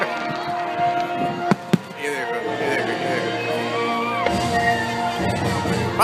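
July 4th fireworks burst close by with a couple of sharp bangs early on, followed by crackling and whistling over steady crowd noise, as people talk and exclaim nearby.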